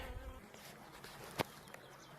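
Honeybees buzz in a faint, steady hum during a spring hive inspection, with a brief sharp click partway through and no talking.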